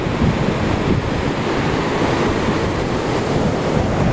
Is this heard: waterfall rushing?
yes